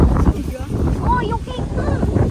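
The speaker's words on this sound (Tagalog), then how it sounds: "sobrang lakas ng hangin" Strong wind buffets the microphone at an outdoor campsite gathering, low rumbling gusts blended with chatter and laughter from people nearby.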